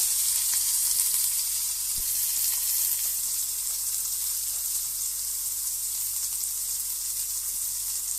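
Tomato and onion sautéing in a pan for a white gravy, giving a continuous hissing sizzle at a moderate, even level with one small knock, close and free of speech.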